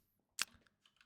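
A single sharp keystroke on a computer keyboard, followed by a few faint, light taps in a quiet room.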